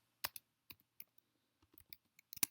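Sparse keystrokes on a computer keyboard as a terminal command to activate a Python environment is entered: a handful of close, crisp clicks in short irregular bursts with quiet gaps between, no voice.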